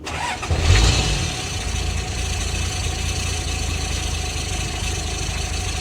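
A Nissan Patrol TD42 twin turbo diesel engine starting roughly, a brief cranking surge before it catches and settles into a steady, loud, rumbling idle, close by with no talk.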